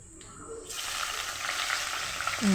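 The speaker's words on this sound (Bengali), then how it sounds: "কালো জিরা ফোড়ন দিয়ে বেগুনগুলি ছেড়ে দেবো" Eggplant pieces frying in hot oil with nigella seeds in a wok, a steady close sizzle that swells after a short quiet start and holds loud and continuous with no talking.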